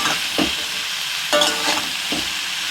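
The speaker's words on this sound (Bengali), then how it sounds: "কচুরলতিটা দিয়ে কিন্তু এবার আমি পেঁয়াজের সাথে ভালো করে" Taro stolons stirred with onions in a hot pan, a steady close sizzle punctuated by three distinct scraping strokes of the spatula, no talking.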